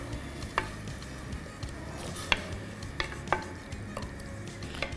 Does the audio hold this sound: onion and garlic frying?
yes